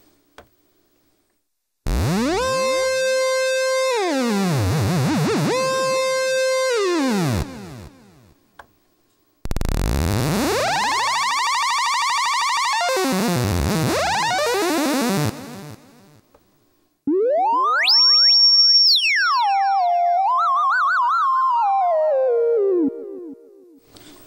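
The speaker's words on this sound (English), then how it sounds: "It becomes a monophonic synth and you can control the pitch by waving your hand." A monophonic synth tone from a Roland SP-555 sampler, pitch controlled by waving a hand, swooping up and down, glissandos sliding smoothly across three long phrases separated by short silences, loud and close.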